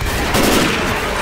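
Left 4 Dead 2 gunfire, continuous and loud, a dense rattling barrage of shots close by with no pauses and no talk.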